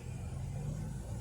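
A car moves along a street outdoors in Queens, New York, producing a steady low engine rumble and road noise that stays fairly constant and moderately distant throughout.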